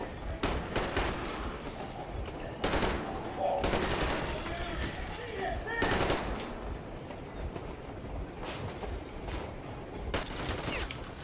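Gunfire in Metro Exodus, heard as several loud bursts of rapid shots separated by short gaps, with voices talking between and over them.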